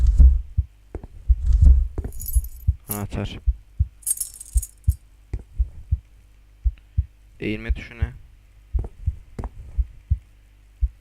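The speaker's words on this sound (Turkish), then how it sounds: "Kalp sesi duyuyorum." Heartbeat in an indie horror video game, a regular pulsing thump repeating steadily throughout, with a person speaking briefly over it and other faint game noises.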